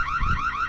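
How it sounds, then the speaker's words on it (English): Reolink Argus 2 home security camera sounding its alarm siren, a loud, close electronic wail sweeping up and down in quick repeated cycles, heard alone for a brief moment. "there's also an option for an alarm. If you want to scare somebody off whenever they hear that"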